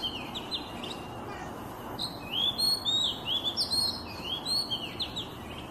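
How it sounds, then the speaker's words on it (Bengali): An oriental magpie-robin, or doyel, sings a series of clear whistled notes and rising and falling phrases, fairly close over a steady outdoor background hiss. "এই দোয়েলের শীষ আমাদের খুব প্রিয়,"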